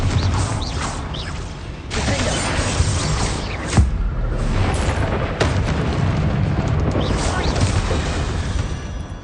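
In the Hogwarts Legacy video game, a Confringo fire spell explodes amid combat, bringing loud booming blasts and rumbling debris with sharp impacts around four and five seconds over a dense, continuous battle din.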